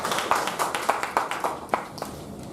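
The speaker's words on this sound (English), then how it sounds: "So good round of applause for you." Small audience at a speech evaluation session clapping briefly, a short run of distinct, evenly spaced claps with a sparse, close feel.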